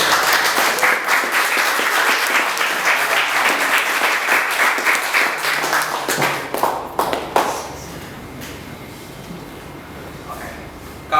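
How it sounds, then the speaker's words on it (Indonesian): Audience applause at the close of a school seminar session, dense and lively clapping that thins out after several seconds into scattered claps and quiet room noise. "Mari kita tepuk tangan untuk yang meriah."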